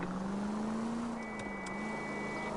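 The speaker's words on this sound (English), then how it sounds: "The car sounds run down, it's making noises it shouldn't make." A worn-out, run-down car engine idles steadily with a low droning hum and a faint high whine, giving a continuous mechanical rumble with a few brief ticks over the top.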